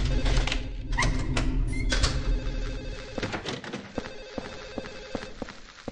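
An old-style telephone bell rings insistently in Silent Hill 4, repeated loud rings over a clattering, busy game soundscape with dense background noise throughout.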